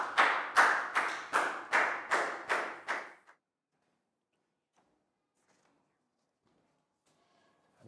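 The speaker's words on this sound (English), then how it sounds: "a big round of applause for Down." About seven rhythmic, evenly spaced claps from a classroom group of children, clear and close, then near silence with a few faint taps.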